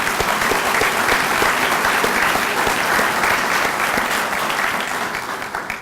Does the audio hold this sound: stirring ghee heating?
no